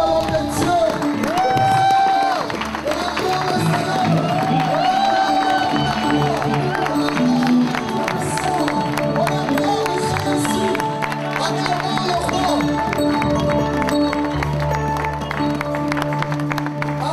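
A church congregation at a Pentecost seminar cheers and acclaims the Lord, a sustained crowd roar with whoops and clapping that holds steady and loud throughout, with music and voices woven underneath.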